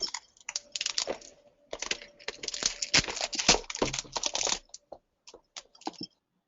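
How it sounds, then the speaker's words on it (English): Rapid keystrokes on a computer keyboard at a desk, several seconds of busy clattering typing in uneven bursts with short pauses, fairly close, then a few isolated taps trailing off before silence. "We can hear some typing."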